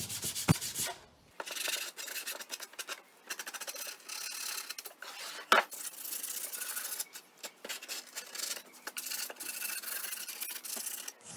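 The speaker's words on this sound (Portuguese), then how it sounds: "Então eu lixei tudo, lixei toda a horta, todo o banco" Hand sanding of a wooden vertical garden planter and rustic bench, a steady close scratchy rubbing with short pauses and a few sharper knocks, no talking.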